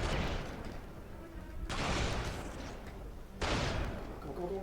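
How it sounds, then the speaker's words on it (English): Sniper fire pours onto a convoy in Marvel's Spider-Man, with three heavy blasts at roughly regular intervals, each trailing into a rumbling decay, all fairly quiet. "Snipers are opening up on the convoy."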